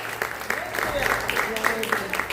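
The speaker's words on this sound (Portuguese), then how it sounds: "Você pode aplaudir o nome de Jesus." Church congregation applauding during an evening service, steady clapping with distinct claps throughout, heard under a speaker's voice and faint background tones.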